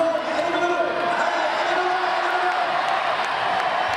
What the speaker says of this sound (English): The crowd urging him on.